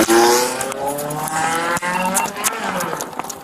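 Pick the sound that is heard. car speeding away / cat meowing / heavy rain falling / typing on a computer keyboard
car speeding away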